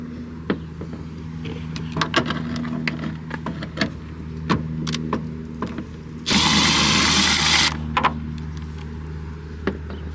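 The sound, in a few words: power tool unscrewing screws on Toyota Sienna brake light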